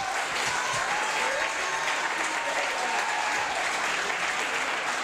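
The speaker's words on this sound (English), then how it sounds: "let's hear a big round of applause for our beautiful girls" An audience at the Miss Polonia USA 2015 pageant gives sustained, full applause, a dense wash of clapping that holds steady from start to finish.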